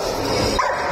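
A Czechoslovakian wolfdog makes close, whiny yipping and whimpering sounds over a noisy background, with a brief sharper yelp midway.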